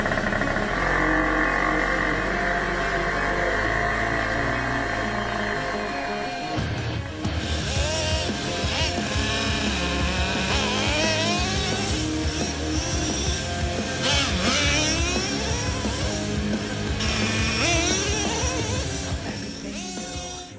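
A stock Traxxas Revo 3.3 nitro monster truck engine buzzes at a steady high pitch, then revs and drops as the older 1/10-scale truck drives off, with rising and falling whines.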